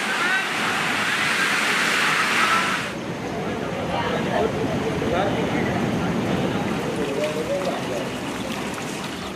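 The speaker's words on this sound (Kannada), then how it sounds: "ಕೃಷ್ಣಾ ನದಿ ತಟದಲ್ಲಿ ಪ್ರವಾಹದ ಆರ್ಭಟ ಜೋರಾಗಿದೆ." Flood waters of the Krishna river in Belagavi district, Karnataka, after heavy rain: a loud, continuous broadband roar of rushing water that stays close and steady throughout, with no voices over it.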